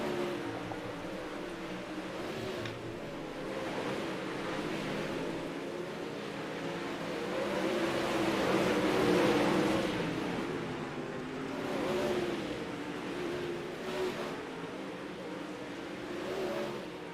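360 sprint cars racing on a dirt track at Cedar Lake, a continuous roar of engines swelling and fading as cars circle past at a distance.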